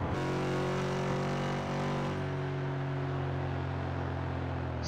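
Race car engine droning steadily at Summit Point circuit in West Virginia, with sustained harmonic tones that shift midway as one car catches and passes another; loud and continuous with no voices.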